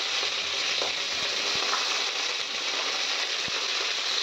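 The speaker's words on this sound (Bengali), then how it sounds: "এখন ফুলকপিগুলিকে একটু সাদা তেলের মধ্যে একটু ফ্রাই করে নেব।" Cauliflower florets frying in white cooking oil, a steady dense sizzle filling the whole stretch with a few soft clicks of a utensil, no voices.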